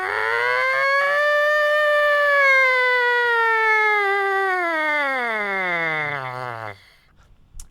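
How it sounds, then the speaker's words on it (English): Lips buzz into a trumpet mouthpiece during a warm-up exercise, a single sustained tone that climbs and then slides steadily downward like a siren, loud and close, ending abruptly. "We're going to take our lips, start buzzing in the mouthpiece"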